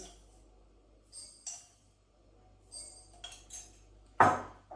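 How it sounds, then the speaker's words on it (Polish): Metal teaspoon clinks against glass jars as mustard seed is portioned into each jar of sliced cucumbers for pickling; a few soft light taps, then one sharper, louder clink near the end. "teraz do każdego słoika dosypuję płaską łyżeczkę gorczycy"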